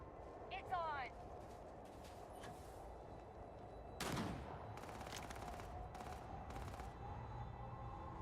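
Distant, muffled gunfire in the video game Starfield, scattered bursts of shots and a few sharper cracks under a low steady background, with speech faintly present.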